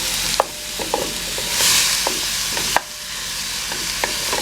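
Chopped onions, garlic and ginger fry together in a pan with a constant close sizzle, broken by several sharp clicks of a utensil against the pan.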